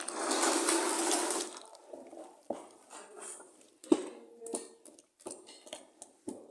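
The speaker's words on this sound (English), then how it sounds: "We'll pour in our remaining water." Water pours steadily into a container of soap off-cuts being re-batched for about two seconds, followed by scattered knocks and clinks of handling with small splashes.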